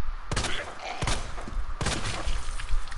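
Gunshots ring out in Resident Evil 2, three sharp, loud bursts spaced about a second apart, each trailing into a brief rumble with soft background game noise between them.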